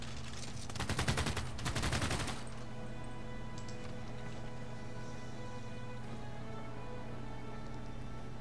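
Gunfire in combat in the Civilization VI strategy game: a dense, loud burst of rapid shots for about two seconds, then a steady hum of game sound underneath.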